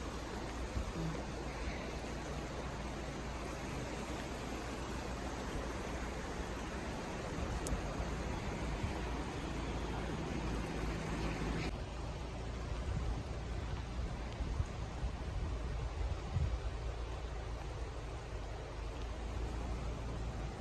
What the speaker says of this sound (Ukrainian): Потихеньку бистриця прибуває.